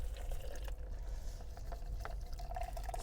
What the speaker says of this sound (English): So I'm just going to fill her up with water.